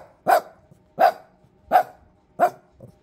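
A puppy barking at night indoors, four short sharp yaps spaced evenly about three-quarters of a second apart, close and clear, followed by a faint softer yip at the end.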